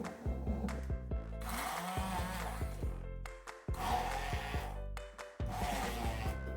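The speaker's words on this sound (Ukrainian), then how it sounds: "Далі хумус збиваємо погружним блендером." An immersion blender whirs in repeated bursts blending hummus, its steady electric hum rising and falling as it pulses and churns the thick chickpea mixture, close and fairly quiet.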